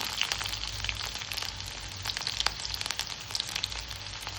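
Small onions and garlic frying in oil with fenugreek seeds for a garlic kuzhambu, a soft steady sizzle with scattered crackles and pops, faint and continuous with no voices.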